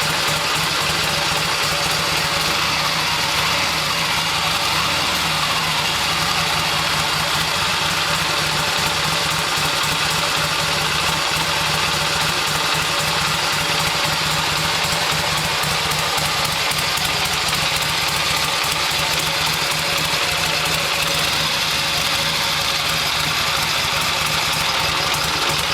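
A 1972 Harley-Davidson XLH Sportster idles steadily as it warms up, a loud, close, continuous engine rumble with a rapid uneven pulsing and mechanical rattle, no voices.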